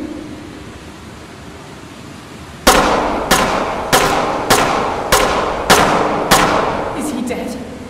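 Gunfire in a horror video game: a run of seven sharp, loud shots spaced roughly half a second apart after a few seconds of quiet ambience, each with a short ringing decay.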